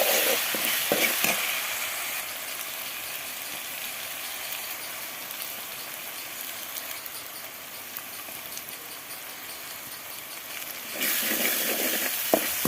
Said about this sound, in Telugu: ఇప్పుడు దీనిలో మనం కొంచెం సాల్ట్, కారం యాడ్ చేసుకొని దాన్ని కూడా బాగా ఫ్రై చేసుకోవాలి